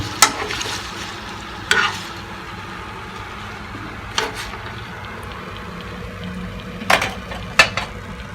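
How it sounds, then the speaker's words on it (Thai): Strips of wonton wrapper cut into noodles fry in hot oil in a pan, a steady sizzle throughout broken by several sharp clinks and scrapes of a utensil against the pan, close by with no talking. "ทอดให้เพื่อนดูเป็นตัวอย่าง"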